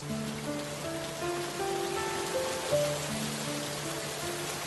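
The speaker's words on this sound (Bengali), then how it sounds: "বাইরে যা বৃষ্টি শুরু হয়েছে" Steady rain falls outside, a soft even patter on surfaces heard from indoors, with faint tonal hums running beneath it and no talk.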